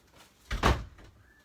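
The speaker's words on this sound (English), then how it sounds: "Sorry, just shutting the door." A door is shut indoors with one brief, soft thud and a short rattle, alone in an otherwise quiet room.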